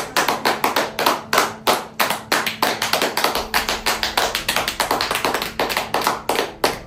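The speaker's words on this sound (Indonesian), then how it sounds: "Boleh beri tepuk tangan semuanya?" A school audience at a farewell event claps together in a rhythmic, fairly close unison beat, sharp regular claps repeating steadily with no talking over them.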